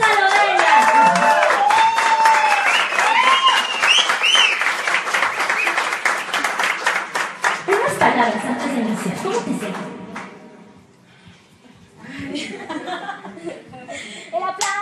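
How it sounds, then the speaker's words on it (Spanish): An audience at a Spanish-language urban talent show bursts into loud applause mixed with cheers and laughter, the clapping fading after several seconds before scattered clapping and voices return. "¡El aplauso!"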